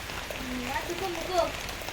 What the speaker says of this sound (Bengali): সাজদা বৃষ্টি কমছে